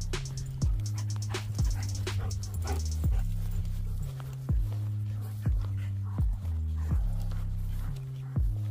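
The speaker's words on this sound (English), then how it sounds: "Some pair of puppy dogs." Staffie and German Shepherd puppies whimpering in a steady run of high, repeated whines, close and fairly soft, each cry rising and falling with brief breaths between.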